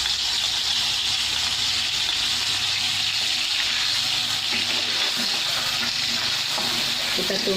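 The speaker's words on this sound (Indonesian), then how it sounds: "Saya akan masukkan dahulu bumbu-bumbunya, kita akan mulai menumis." Spice paste for Palembang-style beef malbi sautéing in hot oil over reduced heat, with a continuous close sizzle and crackle and occasional stirring scrapes.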